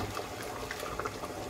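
Rice is stirred in water in a pot while making pilau, giving a soft, continuous sloshing with faint watery swirls, quiet and close, with no voices.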